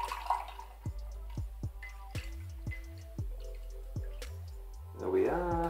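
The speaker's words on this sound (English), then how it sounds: "Grab yourself a strainer, and then let's just start straining" Cereal milk poured through a cocktail strainer into a glass while making an espresso martini: a run of close, soft drips and gurgles in an uneven rhythm, ending in a brief, fuller splash of liquid.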